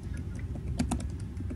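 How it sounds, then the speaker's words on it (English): Laptop keyboard typing, a soft run of light, irregular key clicks with a few sharper taps near the middle, heard close under a steady low background hum. "Why are you even typing?"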